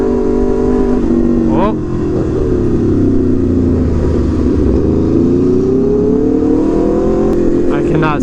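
A very loud motorcycle exhaust roars close by, its pitch rising and falling through several revs before winding back down as the throttle closes; a brief exclamation is heard.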